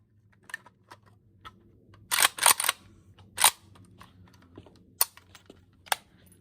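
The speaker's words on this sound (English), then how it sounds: "Execute 1 dry fire, and then you'll have 5 live rounds to fire." Sharp dry-fire trigger clicks and handling clacks from an AK-47 rifle at an outdoor range, a few loud close snaps around the middle with scattered lighter clicks between them, no talking.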